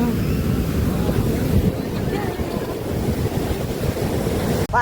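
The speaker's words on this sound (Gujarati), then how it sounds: "લહેરો તો એવી મોટી આવે છે" Big sea waves breaking on the shore near Dwarka, a loud close roar mixed with heavy wind noise on the microphone, continuous throughout with a brief dropout near the end.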